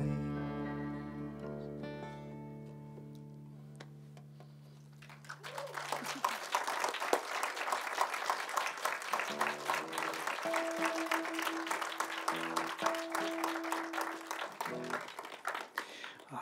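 Audience applause following a poetry reading, a dense sustained burst of clapping from a crowd that swells in after a sustained sung or musical tone fades, steady and fairly loud to the end.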